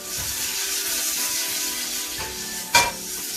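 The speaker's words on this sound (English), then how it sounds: "So let me saute this right here up" Beef tips sauté in a hot pan with a steady, close sizzle and faint crackling, broken by one sharp spitting burst near the end.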